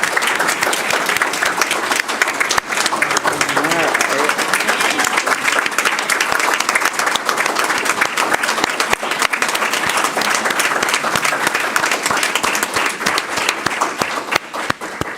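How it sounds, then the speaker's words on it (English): Council meeting audience giving a sustained round of applause, dense and loud clapping from a crowd that carries on steadily for about fifteen seconds. "So if we can give them a round of applause."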